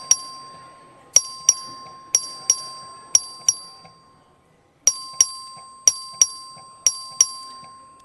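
The Texas House chamber's voting bell is rung by the clerk in two bursts of sharp metallic dings, paired strikes repeating in a steady rhythm with a brief pause between the sets, ringing clearly over faint room noise.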